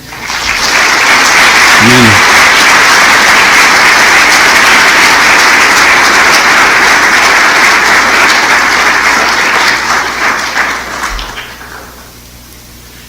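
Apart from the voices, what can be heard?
audience applause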